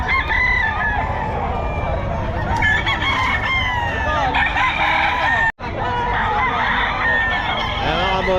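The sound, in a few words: roosters (stags) crowing at Bocaue pet market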